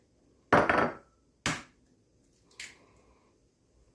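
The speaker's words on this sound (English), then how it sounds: "All right, we got the butter and the sugar all mixed up. Now we're going to put in 2 eggs." Two eggs dropped into a bowl of creamed butter and sugar for mocha chocolate chip cookies, three separate close knocks and wet plops with quiet gaps between them.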